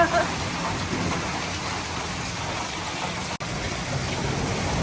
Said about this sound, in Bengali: আর বৃষ্টির শব্দটা ভালোই লাগতেছে অনেকদিন পরে ওই বৃষ্টি